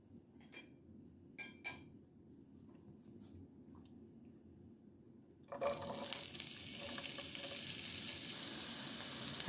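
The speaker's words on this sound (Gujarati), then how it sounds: "તેલ ગરમ થાય એટલે આપણે અંદર કાંદો નાખી દઈશું." Onion dropped into hot oil in a pan bursts into a loud, steady sizzle partway through, following a few faint clinks in an otherwise quiet kitchen.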